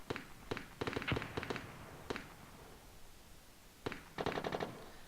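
Automatic gunfire sounds in a competitive online match, with clipped bursts of rapid shots in separated volleys, some single cracks, moderately loud with gaps between.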